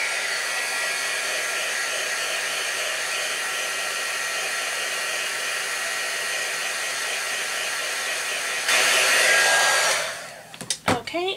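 A hair dryer blows steadily to dry wet paint in an art journal, a constant close whir that swells louder near the end before cutting off into a few brief knocks.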